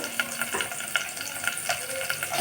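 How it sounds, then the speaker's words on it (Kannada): Chopped onions frying in hot oil for a spicy onion and chicken curry, a close steady sizzle with quick scraping stirs every half second or so, and no speech. "ಒಂದು ಎರಡು ಗೆಡ್ಡೆ ಈರುಳ್ಳಿನ ಕಟ್ ಮಾಡಿ ಇಟ್ಟಿಟ್ಕೊಂಡಿದ್ದೀನಿ ಅದನ್ನು ಇವಾಗ ಹಾಕ್ತಾಯಿದ್ದೀನಿ ಇದ್ದೀನಿ ನೋಡಿ ಎಣ್ಣೆಗೆ"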